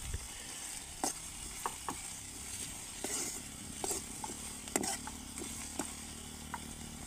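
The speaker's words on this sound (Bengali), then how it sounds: "পেঁয়াজটাকে একটু কষায় নিতেছি। সরিষার তেল দিয়ে রান্না করা হচ্ছে" Onion sautés in mustard oil over a fire in a hillside jhum hut, a continuous soft sizzle broken by scattered light clicks and scrapes of stirring.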